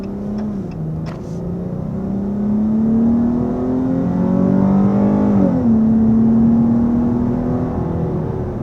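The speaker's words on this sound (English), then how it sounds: "there we are heading up to 60 miles an hour with the Charger GT" A 2021 Dodge Charger GT sedan accelerates hard toward 60 mph, its engine note climbing in pitch through the gears with a clear shift dip partway, loud and close from inside the cabin.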